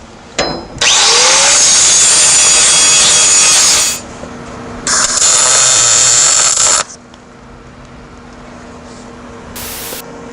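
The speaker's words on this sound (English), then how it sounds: "you want to grind the paint off of them, the galvanizing off of it" An angle grinder strips galvanized coating off a steel weld-on lockbox in two long, loud, harsh bursts, each ending in a spin-down, with quieter shop noise between them.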